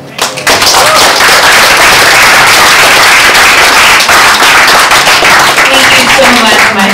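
Loud, dense audience applause after a speech on the future of money, a sustained roar of clapping hands close by that fills the whole stretch without letup.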